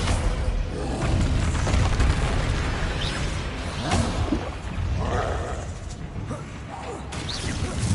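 Troll in Hogwarts Legacy bellowing and crashing about amid dense, loud game combat, with booming impacts and low rumbles filling the whole stretch.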